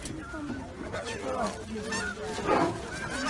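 Birds released during a funeral give off goose-like honking calls mixed with a crowd's murmuring voices, a continuous moderately loud outdoor din with one stronger burst near the end.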